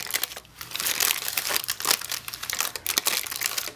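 Tissue paper being peeled gently off a candle after melting, a close, steady crinkling and crumpling that rustles alone for a few seconds.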